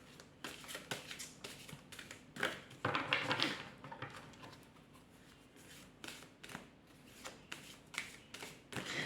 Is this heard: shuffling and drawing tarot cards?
yes